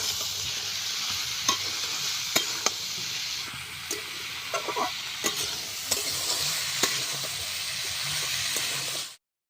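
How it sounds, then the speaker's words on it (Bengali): Potatoes with turmeric stir-fried in a pan give a loud, continuous sizzling hiss, close by, with sharp spatula scrapes and taps throughout and no voices, ending abruptly. "হলুদ ভালোভাবে আলুটাকে কষে নিই"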